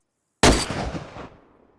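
A single sharp .338 rifle shot in DayZ Expansion, loud and close, with a sudden crack followed by a rolling echo that fades over about a second.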